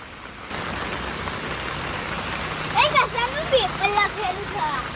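Steady rain hisses in the background while people talk nearby over the constant wash of falling water.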